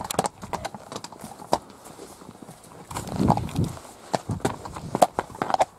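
Horse's hooves walking over rough ground in the Burren, an irregular series of close, moderately loud clops with a few brief pauses and no voices.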